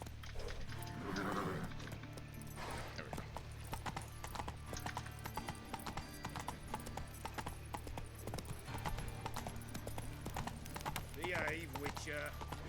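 Roach, the player's horse in The Witcher video game, clops along in rhythmic hoofbeats with a couple of neighs and whinnies, while someone talks over the game audio.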